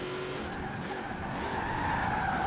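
A Mitsubishi Starion in the racing game Forza Horizon 4 brakes on snow, its tires skidding in a steady, loud hiss over the continuous engine drone, with no talking.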